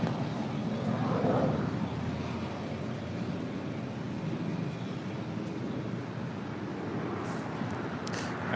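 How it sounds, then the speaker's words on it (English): SAS Scandinavian Airbus A350 departing the runway at LAX, a broad steady roar of jet engines, distant and fairly faint, holding throughout with no voices. "All right, the SAS Scandinavian A350 heading back to Copenhagen."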